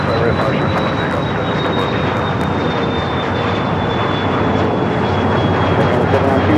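A fixed-wing airliner takes off at Los Angeles International Airport, its engines a loud, unbroken roar throughout, with voices faintly present beneath.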